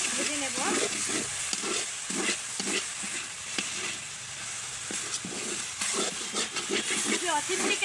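Fish skin and flat bean flowers fry in a pan for a Bangladeshi mash, giving a steady close sizzle and hiss with scraping stir strokes throughout, and a voice speaks now and then over it.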